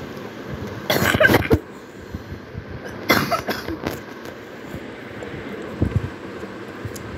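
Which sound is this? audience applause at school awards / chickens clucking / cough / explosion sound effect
cough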